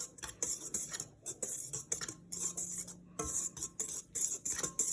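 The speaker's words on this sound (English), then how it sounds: "and our salt, and we're going to whisk it" A whisk scrapes and ticks rhythmically against a bowl, mixing salt and sugar into dry flour for Spanish bread, in quick repeated strokes with brief pauses, close and clear.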